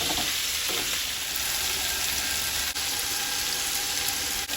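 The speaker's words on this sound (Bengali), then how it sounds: "আলু মাংস ফ্রাই হচ্ছে" Potatoes and meat fry in a wok with a dense, steady sizzle that holds even and fairly loud throughout, with no voices.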